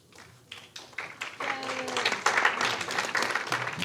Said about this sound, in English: One last round of applause for today's author, Christina Enriquez.